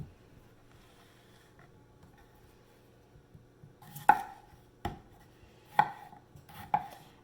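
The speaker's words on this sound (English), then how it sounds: "I'm going to go ahead and start on chopping up some of the veggies for my foil packets." Vegetables are chopped on a cutting board for foil packets during a meal prep session, with four sharp, close knife strikes at uneven intervals after a quiet stretch.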